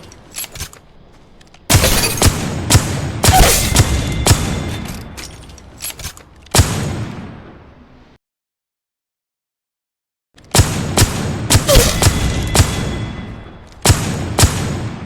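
Wingman pistol shots in Apex Legends Mobile: loud, heavy single reports in bursts with ringing tails and a mechanical reload clack, then a gap of silence before another quick string of shots.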